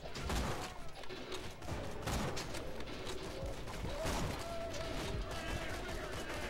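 Gunfire in Borderlands 2, a mix of shots and mechanical clatter rattling fairly quietly, mostly in steady bursts with a sharper crack near the middle.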